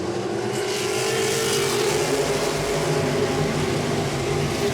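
Modified race cars roar steadily around an oval track at Langley Speedway, running side by side, engines droning loud and continuous with a constant mechanical buzz and no pauses.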